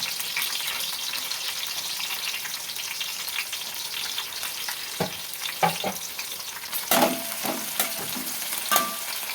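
Plump bajji chillies lightly fry in hot oil for a fish curry, a steady soft sizzle with occasional stirring clinks and scrapes near the end, and no voices.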